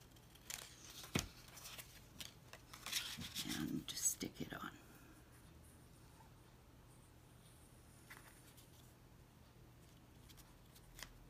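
Scissors snipping through paper while making a flip-out envelope for a junk journal, a short cluster of close, crisp cuts and rustling in the first few seconds, then quiet handling noises with faint whispery sounds.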